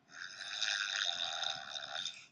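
A person vocally imitates a deep snore, producing one continuous rasping, throaty rumble lasting about two seconds, close and moderately loud with no talk over it.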